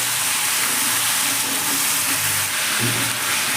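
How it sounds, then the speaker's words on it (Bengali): Large chunks of raw pumpkin stirred in hot oil in a pan, a loud continuous hiss and sizzle filling the space with low scraping undertones. "কুমড়োটা দিয়ে এবার ভালো করে নাড়বো।"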